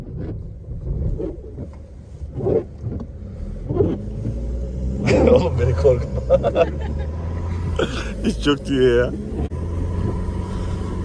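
A Mitsubishi L200 pickup's exhaust rumbles low and close as the truck climbs a snowy mountain track, with the engine swelling in bursts beneath laughter and excited talk from people inside the cab.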